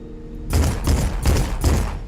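Cannons and turrets firing in the video game Lost Skies: four heavy booming shots in an even rhythm, loud and close, with no speech.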